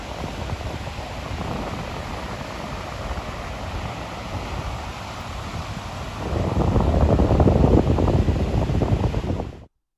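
Steady coastal wind buffeting the microphone in wet weather at Girvan, Ayrshire, Scotland, a constant rushing roar that grows stronger and gustier partway through before cutting off abruptly.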